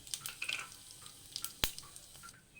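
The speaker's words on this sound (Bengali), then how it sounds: "গোটা জিরাটা ভাজা ভাজা হয়ে গেছে।" Whole cumin seeds frying in about two spoons of refined oil in a frying pan, a soft close sizzle with light crackles and one sharp pop, no voices.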